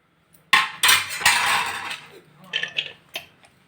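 A metal spoon scrapes and clatters against a pot while palak pulao is stirred, giving several loud clinks and scrapes followed by softer taps.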